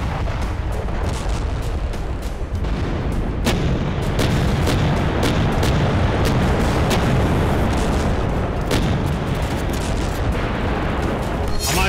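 Artillery guns and tanks fire at a military display, a dense run of loud booms and sharp reports over a constant roar, with some speech mixed in.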